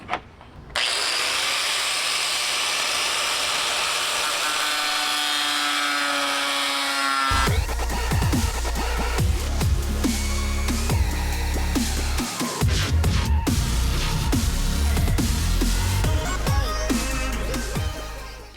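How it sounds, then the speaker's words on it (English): An angle grinder with a cutting blade slices through a kayak crate. A motor whine spins up, then a loud, continuous, rough cutting roar follows with a brief dip partway through. "I got my angle grinder with a cutting blade on it. And I'm just gonna start cutting it off."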